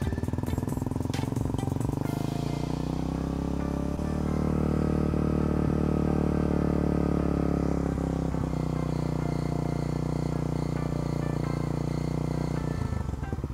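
Suzuki Raider 150 Fi motorcycle engine, fitted with a stock or remapped ECU, held at a steady 2,000–4,000 RPM rev, a loud continuous drone heard up close with a slight swell partway through and no speech.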